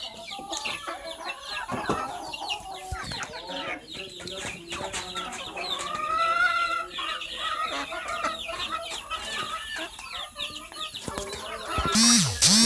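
Backyard country chickens, two hens and a rooster including a black hen, cluck continuously inside a coop, with overlapping near calls and a brief louder squawk near the end, while a person talks quietly.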